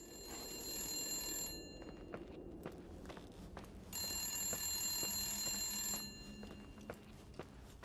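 A telephone rings in the horror game The Suicide of Rachel Foster, two bursts of bright electronic ringing separated by a pause, with soft footsteps and quiet ambience between them and no talk.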